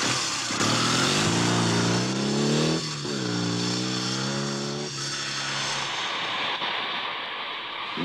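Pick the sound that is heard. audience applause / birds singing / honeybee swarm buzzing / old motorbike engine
old motorbike engine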